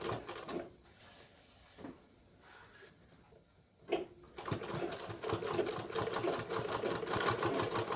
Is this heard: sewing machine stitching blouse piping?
yes